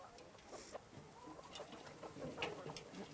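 Hens on an organic farm clucking softly and intermittently, faint and somewhat distant over a low steady background.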